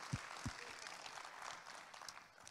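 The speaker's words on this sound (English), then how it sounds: "Clap today if you are." A church congregation claps together in a room, with steady broadband applause running throughout the short stretch and a couple of low thumps near the start.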